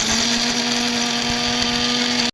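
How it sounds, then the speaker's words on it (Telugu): A mixer grinder runs steadily, grinding biscuits and sugar: a loud, continuous motor whir with a constant hum that holds unbroken for about two seconds before cutting off. "గ్రైండర్ లో బిస్కెట్లు షుగర్ వేసి మిక్సీకి అయితే పట్టాను"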